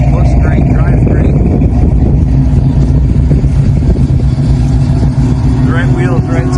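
A 1971 Ford Mustang Fastback with a 347 stroker V8 and four-speed automatic rumbles loudly and steadily up close, a dense low burble with someone talking over it.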